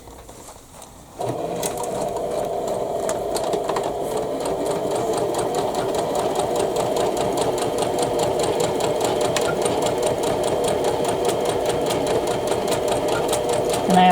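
A sewing machine stitches a seam down both sides of a folded quilting piece for a Cathedral Window block, starting after a brief pause and running as a steady, continuous mechanical whir close by.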